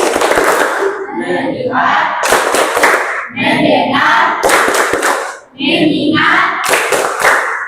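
Groups of people clap in a rhythmic 'tepuk fokus' ice-breaker, bursts of loud, sharp claps alternating with chanted call-and-response speech, repeated several times close by.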